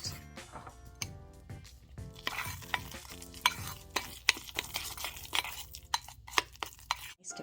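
A face mask paste mixed in a bowl, close soft scraping and tapping of a spoon or wand against the bowl in quick irregular strokes, fairly quiet with no speech.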